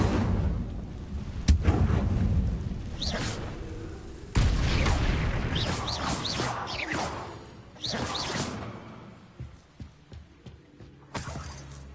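Incendio fire spell cast repeatedly in the Hogwarts Legacy video game: bursts of fiery whooshes and booming blasts, loud and close, with a couple of sharp strikes amid rumbling game sound.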